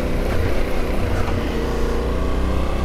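Yamaha Ténéré 700 adventure motorcycle riding with the throttle open and the rear sliding through a corner, a steady, loud engine drone under wind noise with no pauses.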